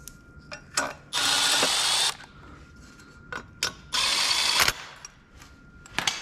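Two sustained whirring bursts of about a second each come from a power drill backing 6mm Allen bolts out of a VR6 engine accessory bracket. Short clicks and knocks from handling the tool and parts come between them.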